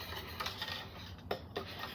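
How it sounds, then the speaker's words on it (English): A whisk scrapes and stirs seasonings such as white pepper into a bechamel sauce, soft rhythmic rubbing with a couple of light metallic taps against the pan, close and quiet. "whisk all these ingredients together until they're well blended"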